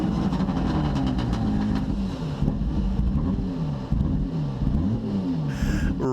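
A rally car drives fast with loud engine roar throughout, pitch climbing and dropping with repeated gear shifts, heard close from inside the car.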